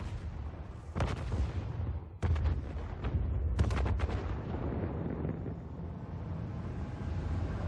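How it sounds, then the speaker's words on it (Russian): Heavy explosions in Call of Duty: Black Ops 3 boom and crack in several bursts over a constant rumbling background, loud and close, with no talking. "Они взрывают чертов здание"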